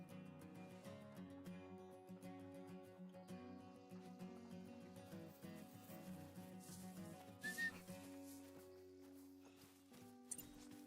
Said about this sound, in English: We're gonna keep whistling, trying to kick up some rabbits too.